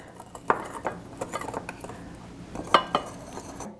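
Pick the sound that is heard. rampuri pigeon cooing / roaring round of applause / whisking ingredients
whisking ingredients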